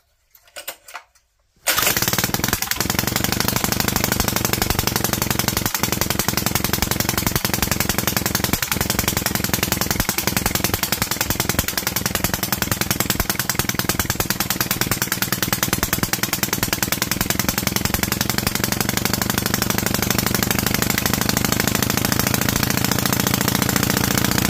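A Predator 212cc vertical shaft engine with the choke on catches after a short cranking rattle and then runs loud and steady, a harsh continuous roar close by with no speech.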